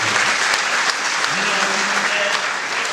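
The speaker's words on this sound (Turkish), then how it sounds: "Alkışlarla seni de uğurluyorum." Audience at an opening ceremony breaks into steady applause, a dense close wash of many hands clapping continuously with a voice speaking over it.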